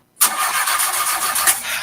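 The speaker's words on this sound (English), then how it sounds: "My car broke down and I can't get the parts." A car engine cranks over and over without catching. The churning is loud and close, runs steadily for nearly two seconds, and plays alone with no talk.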